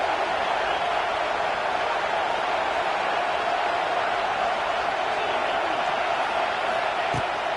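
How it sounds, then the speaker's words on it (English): A football stadium crowd roars in a steady, dense wash of noise that holds without pause for several seconds. "The roar of the crowd trying to fuel this defense to keep them pinned in their own end."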